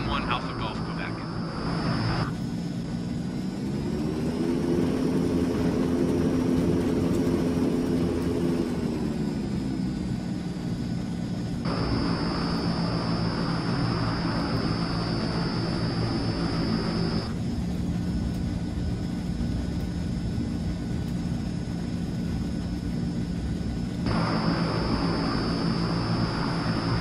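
Transall military transport aircraft taxiing toward runway 34, a steady loud engine drone with a whining tonal hum that swells in the middle, heard up close and continuous throughout, with radio voices over it.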